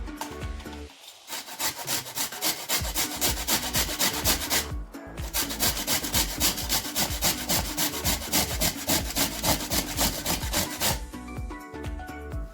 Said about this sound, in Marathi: त्या बारीक साईडने आपण हे बीट किसून घेऊ छानपैकी